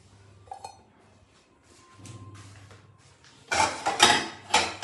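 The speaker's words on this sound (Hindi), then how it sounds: "कुकर भी खाली कर देती हूँ और सारे बर्तन धो देती हूँ" Dishes, pots and utensils being washed in a home kitchen: scattered metallic clinks and clatters, then louder splashing and scraping bursts of water and metal near the end, close and without talk.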